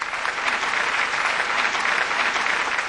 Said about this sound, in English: but a hearty round of applause.